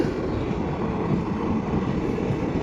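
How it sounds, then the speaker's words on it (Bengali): Lalgola passenger train, arrived from Sealdah, moving through a station platform, giving a steady, loud, broad rumble that holds evenly throughout with no voices. "লালগোলা প্যাসেঞ্জার, লালগোলা যাচ্ছে, শিয়ালদা থেকে এসছে ট্রেনটা"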